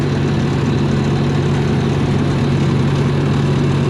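Early 1970s UniSystem farm machine engine running on a straight pipe with no muffler, a steady low droning rumble that holds constant and close throughout, with no voices.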